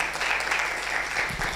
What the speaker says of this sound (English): So we can give a warm round of applause to Claude.